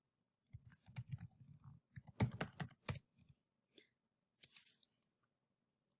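Quiet clicking keystrokes on a computer keyboard come in short bursts with gaps between, close and soft, with no talking.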